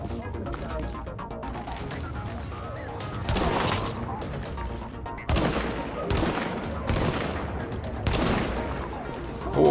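Sniper rifle fire in The Division during a fight at the Hudson Refugee Camp: several sharp, loud shots ring out at irregular intervals over a steady bed of battle noise and game ambience.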